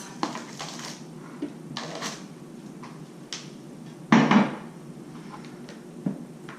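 A spatula spreads cheesecake filling over an Oreo layer in a baking pan, making soft scrapes and a handful of scattered clinks and taps against the pan, with one louder knock midway.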